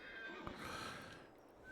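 A horse in the Farming Simulator 22 video game gives a shrill whinnying neigh with a faint hoof clop, heard alone at moderate volume and lasting about two seconds.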